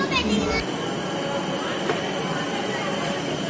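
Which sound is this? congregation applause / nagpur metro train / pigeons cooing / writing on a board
nagpur metro train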